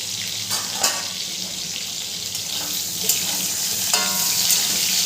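Pointed gourd (potol) pieces fry in oil in a pan for doi potol, a steady hissing sizzle with occasional stirring knocks and scrapes, close and fairly loud.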